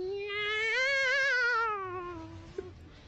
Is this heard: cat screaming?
yes